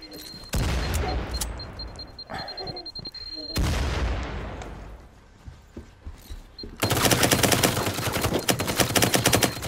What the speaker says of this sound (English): Oh shit, grenade!